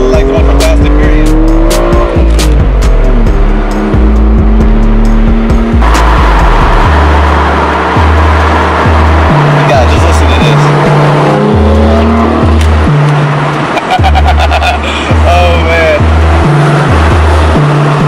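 A BMW car engine at close range, loud and continuous, revving up and down in repeated stepped surges with crackling exhaust pops between revs.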